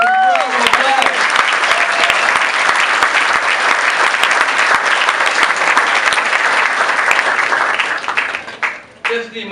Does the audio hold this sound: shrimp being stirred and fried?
no